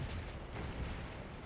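Artillery cannon fire in a Civil War-era video game battle, a dense continuous rumble of booms and blasts at steady loudness with no distinct single shot standing out.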